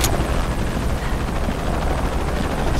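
A helicopter in the Shadow of the Tomb Raider video game roars loud and steady, its dense rotor and engine noise filling the whole stretch without a break.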